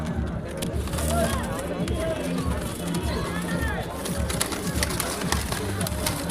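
Pigeons coo repeatedly among caged birds at a busy outdoor pet market in Dankuni, the low calls close and continuous beneath a crowd's chatter and people talking nearby.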